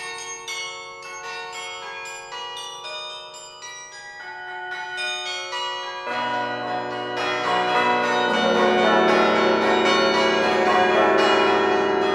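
Carillon tower bells play a melody of struck notes, sparse single tones at first, then fuller chords ringing together and swelling louder as the bells overlap and sustain.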